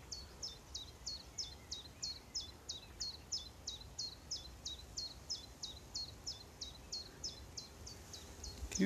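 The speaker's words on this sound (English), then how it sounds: "You hear that bird?" A bird sings outdoors along a walking route, repeating a short high chirp about twice a second for the whole stretch, fairly clear over quiet background noise with no talking.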